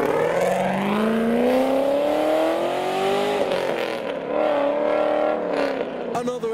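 A Lamborghini Aventador S pulls away from a car show, its engine note climbing in a loud, rising rev that eases and then builds again, with crowd chatter and street noise beneath.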